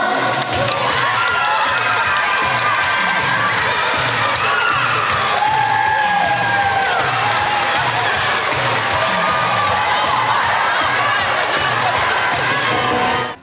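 Spectators cheer and shout steadily at a family sports contest, with children's voices and the sound of a large crowd filling a hall. Scattered applause and bouncing balls mix into the loud, continuous noise.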